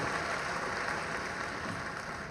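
A crowd at a political rally applauding to welcome the Chief Minister, a dense, continuous wash of clapping at moderate distance with no pauses.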